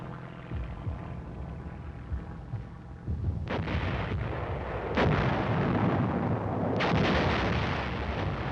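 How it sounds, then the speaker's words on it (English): Army artillery fire during the Korean War, heavy booming blasts over a continuous rumbling barrage, with a sharp burst near three seconds and further loud reports around five and seven seconds, no voices. "Army artillery pounded away incessantly while the tanks got in position to add their fire."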